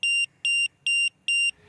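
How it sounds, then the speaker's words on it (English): Anti-theft alarm on a Victa RM100 robot lawn mower: four sharp, loud electronic beeps in an even rhythm, each lasting about a quarter second, heard alone in a quiet setting. "The RM100 even has an onboard anti-theft alarm."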